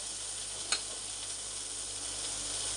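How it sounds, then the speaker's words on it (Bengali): Rohu fish pieces frying in a little oil in a wok over a gas flame give a steady, dense sizzle with one brief sharper pop early on, with no talking. "এই যে 3 পিস মাছ ভেজে নিচ্ছি।"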